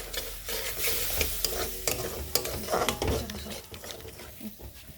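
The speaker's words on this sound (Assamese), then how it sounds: "আৰু এতিয়া মই এইখিনি ভালকৈ ভাজি লম" Spice mixture with cumin powder and a little water frying in a pan for Assamese tenga pithali, a close sizzle broken by repeated stirring scrapes and clinks against the pan.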